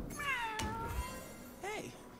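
A cat in the card game Legends of Runeterra gives a clear meow, then a shorter second meow after a sharp click, with a voice talking quietly underneath.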